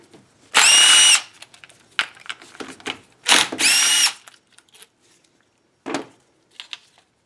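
Power tool whirring in two sustained bursts as it backs out bolts from the fuel rail of a Honda Odyssey, with short clicks and clatter of the tool and parts in between and a final brief burst.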